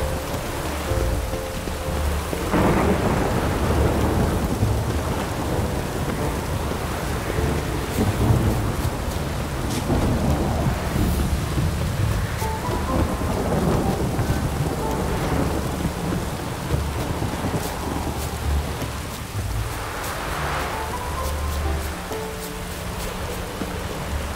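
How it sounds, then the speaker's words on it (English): Steady heavy rain pours throughout while deep rolls of thunder rumble repeatedly in the video game The Witcher 3: Wild Hunt, with no voices. "use doing any work in this rain"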